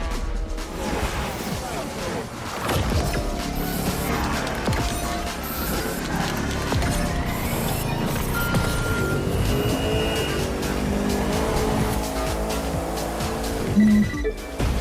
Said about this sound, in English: show me what that hypercar can do